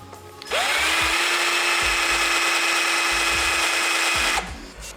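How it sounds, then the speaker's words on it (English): A power drill whirs up and runs at steady high speed for about four seconds, loud and close, then spins down, drilling into a dirt bike handlebar on a sportbike. "Now we're gonna get the drill and drill it on there."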